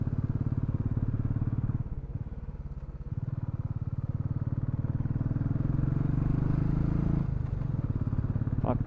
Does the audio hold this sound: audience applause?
no